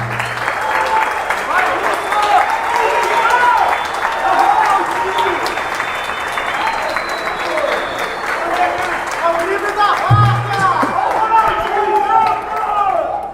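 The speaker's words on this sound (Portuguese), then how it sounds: "Uma salva de palmas para esse cara." An audience at a political speech in Minas Gerais claps and cheers in a sustained, loud wash of applause, with voices mixed in throughout.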